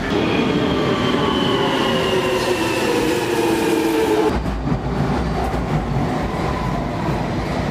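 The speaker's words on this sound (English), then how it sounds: "So I'm getting the train here." A train bound for London rumbles past up close with a steady roar and a squealing wheel whine, then the noise drops to a lower, duller rumble.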